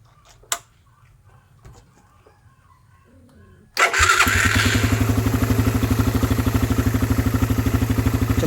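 A Suzuki Raider 150 motorcycle engine cranks and catches, then settles into a loud, steady, rapid idle that carries on alone. Before it starts there are only a few faint knocks and handling noises, and no one talks.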